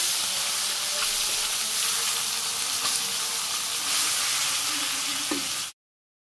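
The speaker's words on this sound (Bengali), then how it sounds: "নাড়া চাড়া করে মাছটা ভাজি করে নামিয়ে নিই" Stinging catfish (shing fish) frying in hot oil in a pan, a steady dense sizzle with faint stirring clatter, close and continuous until it cuts off abruptly near the end.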